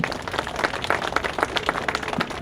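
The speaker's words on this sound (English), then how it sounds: "Give them a big round of applause." Scattered applause from a small audience at a tall ships press conference, a few seconds of irregular hand claps at moderate level with no talking over it.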